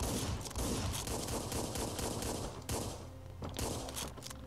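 Rapid gunfire in the video game Hotline Miami 2, including shotgun blasts, a dense fusillade of close, punchy shots for nearly three seconds, then a few scattered bursts and thuds.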